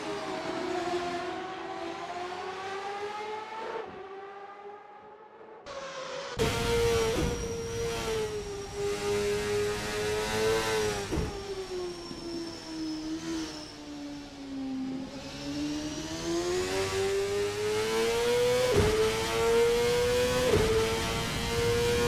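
A 1999 CART open-wheel race car in a racing video game threads the esses at Mid-Ohio, its engine note rising and falling steadily through shifts as it climbs and eases through the corners. The sound is close, loud and continuous, with no voices.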